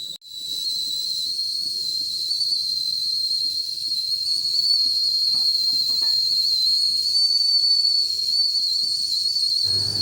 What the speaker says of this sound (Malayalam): നമുക്ക് എവിടെ നിന്നാണെങ്കിലും ഇതിൻ്റെ സൗണ്ട് കേട്ടിട്ട് പാല് തിളച്ചെന്ന് മനസ്സിലാക്കി തിരിച്ചു വരാം